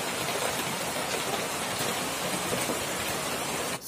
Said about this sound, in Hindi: बाहर बहुत अच्छी वाली बारिश हो रही है